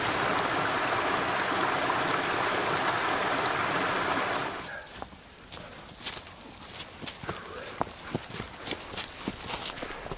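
A Savage Gulf, Tennessee stream rushes steadily for several seconds, then fades to a quieter trickle broken by scattered footsteps and small knocks nearby.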